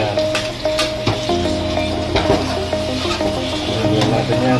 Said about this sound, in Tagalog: Ito, gunain natin yan, bawang.